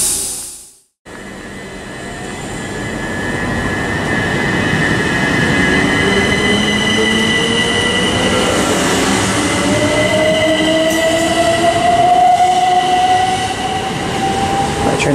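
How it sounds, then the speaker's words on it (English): A Southeastern Class 375 electric multiple unit passes at Sevenoaks on the Hastings to London Charing Cross service, with a loud, sustained roar of wheels and motors, a rising whine and faint squeal as it runs close by. "Heading over on the 11:59 Southeastern service from Hastings to London Charing Cross."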